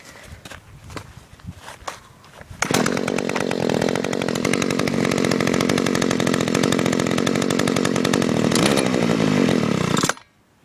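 Husqvarna or Stihl chainsaw, unused since last autumn, pulled into life after a few seconds of handling noise and then running loud and steady near by for about seven seconds before cutting off abruptly.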